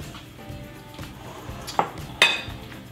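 Eggs cracked into a measuring cup for banana mochi bread batter: two sharp, close clinks of shell against the cup, spaced apart over faint kitchen background noise.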